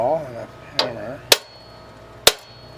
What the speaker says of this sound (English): So we're gonna put a starting spot here. And a awl and a hammer.